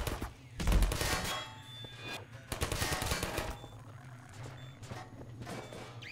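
Automated sentry turret firing in Half-Life 2, rapid bursts of gunfire in a couple of close clusters with crashing impacts, followed by quieter scattered shots and game ambience.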